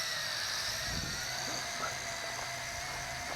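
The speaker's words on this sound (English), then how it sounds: "And bringing it to hover." A small quadcopter drone hovers in the air, a faint, steady high-pitched whine of spinning propellers with slight fluctuations and a few soft low bumps.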